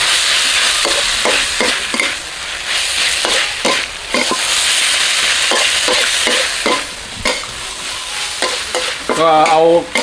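Pork belly stir-fried in a wok with sauce and holy basil, loud close sizzling broken by repeated rhythmic scrapes and clanks of a spatula tossing the food.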